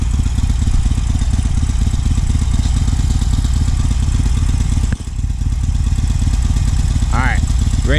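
A learner's motorcycle idles nearby in a continuous low, even rumble during friction-zone practice, with a brief dip partway through and talking over the engine.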